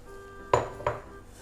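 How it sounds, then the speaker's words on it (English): A metal spoon knocks twice against the side of a pot while stirring white chocolate into milk, two quick clinks close together in a quiet room. "Make sure you stir it in"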